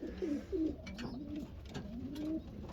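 Young pigeons cooing in a loft during breeding season while being fed, two at once, with soft repeated low coos running steadily throughout.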